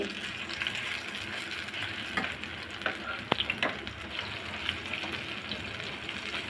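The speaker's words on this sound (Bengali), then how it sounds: "এখন আমি এই পিট ও পিট করে ভালো করে ভেজে নিব" Thankuni leaf pakoras, battered fritters of pennywort leaves, sizzle steadily in hot oil, a continuous close frying hiss broken by occasional pops and clicks of the pieces being turned one by one.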